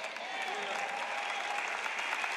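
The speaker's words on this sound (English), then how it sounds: "if you're going to clap, don't patty cake" A church congregation claps during a sermon, a steady dense wash of many hands at moderate distance, continuous and even throughout, with some voices faintly underneath.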